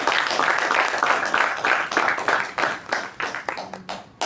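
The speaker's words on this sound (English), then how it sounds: "Let's give them a huge round of applause." A meeting audience claps for the evaluators, with steady applause that thins out into scattered, separate claps as it dies away over a few seconds.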